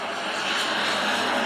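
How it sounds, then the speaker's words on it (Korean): Small propeller airplane approaching in the Himalayan mountains of Nepal near Jomsom, a steady loud broadband engine drone filling the air without a break. "저기 비행기가 옵니다. 작은 프로펠러 비행기입니다."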